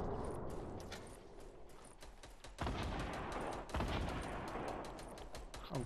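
Dense, continuous volleys of rapid gunfire rattle throughout a Fortnite squad match, the bursts growing louder and heavier partway through with no pauses between shots.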